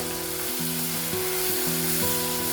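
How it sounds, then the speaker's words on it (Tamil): Tomatoes and onion for an onion chutney sauté in a pan on the stove, giving a loud, steady sizzle with stirring scrapes and a faint low hum beneath. "இதை கொஞ்ச நேரம் வதக்கிட்டு நம்ம ஸ்டவ் ஆஃப் பண்ணிடலாம்"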